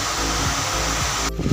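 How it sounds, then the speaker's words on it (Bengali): A small electric fan runs indoors with a steady, close whirring drone, ending in a brief bump of handling noise. "ফ্যানের আওয়াজ হচ্ছে।"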